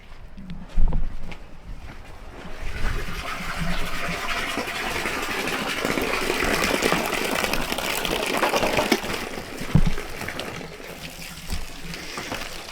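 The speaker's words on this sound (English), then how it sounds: "I can hear it overflowing" Water from a garden hose gushes and splashes as it overflows a container being filled, a steady rushing flow building over several seconds with a few louder splashes and knocks near the start and end.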